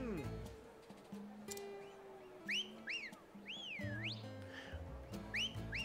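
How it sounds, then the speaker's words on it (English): Melodic rising and falling whistles ring out in the Octopath Traveler video game over a pixelated dance show, several short bright phrases above light background music and occasional soft noises. "There's all the whistling going on"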